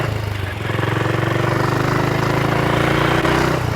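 A BSA 441 Victor single-cylinder motorcycle engine runs steadily and pulls hard. Its loud, close, rapid exhaust thump rises slightly in pitch and holds a constant drone.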